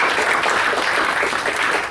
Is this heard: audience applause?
yes